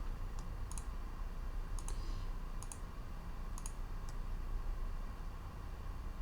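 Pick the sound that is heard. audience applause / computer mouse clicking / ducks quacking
computer mouse clicking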